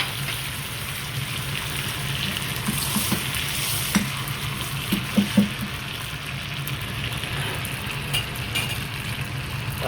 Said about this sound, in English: We're then going to add the butter to the pan, and again this will start to foam.